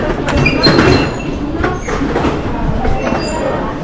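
London Underground tube train rumbling along the track, a loud, dense roar with metallic squeals and clatter, heard close up from inside.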